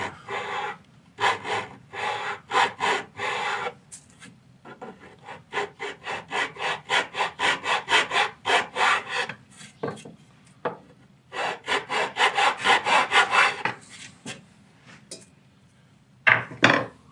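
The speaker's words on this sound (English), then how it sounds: "file out a little groove right along that line" Filing a groove along a line in wood for a one-string electric guitar saddle: close, rhythmic rasping strokes in quick bursts separated by short pauses, alone without talk.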